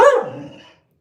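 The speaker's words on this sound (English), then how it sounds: "That's my dog." A single dog bark at close range, loud and sharp at the start and then trailing off into silence within about a second, heard alone with no voices.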